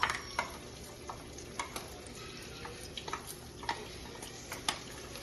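Ground peanuts and sesame frying in a pan for chicken curry, a soft steady sizzle with small scattered pops and stirring clicks, fairly faint and close.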